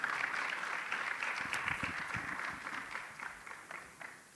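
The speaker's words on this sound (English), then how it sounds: "A round of applause, please." An audience at an SMME and entrepreneurship research Q&A event claps in steady, moderately distant applause that holds throughout and tapers slightly toward the end.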